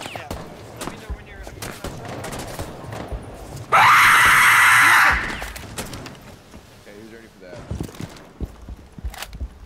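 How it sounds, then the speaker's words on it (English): A loud scream in the video game Rainbow Six Siege bursts out for about a second and a half amid gunfire and game noise, while players talk over voice chat before and after it. "That scream scared me when I was doing that peek"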